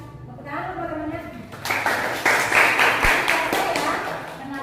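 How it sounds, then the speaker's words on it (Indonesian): Classroom applause as students clap for classmates about to present, a burst of mixed claps rising after a moment of voices and holding steady to the end, with speech underneath. "Tepuk tangan untuk teman-temannya"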